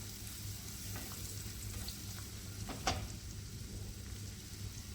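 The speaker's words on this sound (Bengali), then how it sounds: "দিয়ে দেব রসুন কুচি, হালকা সফট হতে দেব।" Chopped garlic fries softly in butter in a pan for a mushroom dish, a faint, steady sizzle with a single brief clink partway through.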